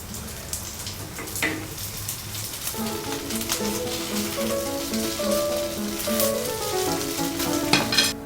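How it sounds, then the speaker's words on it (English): Turnip cakes pan frying in a pan, with a steady close sizzle and crackle of hot oil that runs throughout, joined by a few light clinks of a utensil and no voices. "Pan fry the turnip cakes until both sides are slightly brown."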